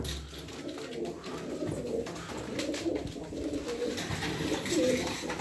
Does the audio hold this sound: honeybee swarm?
no